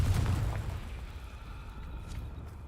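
A Confringo blasting curse explodes in the Hogwarts Legacy video game, a deep muffled boom at the start that rumbles and fades into a lingering low tail.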